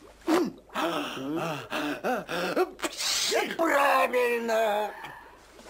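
A sharp, breathy sneeze bursts out midway through a stretch of voiced groans and gasps. A speaking voice is heard around it.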